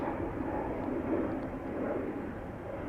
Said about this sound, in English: The itty bitty Airbus.